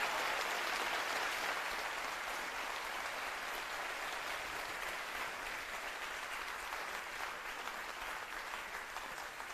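Studio audience applauding contestants on stage at the Ms President season finale: loud, dense crowd clapping that holds steady for close to ten seconds, with no voices standing out.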